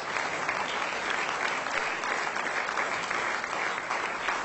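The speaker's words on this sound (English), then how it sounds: "Please give him a big round of applause." Steady, dense audience applause at a Goan corporate excellence awards ceremony, a loud uniform wash of many hands clapping continuously with no break.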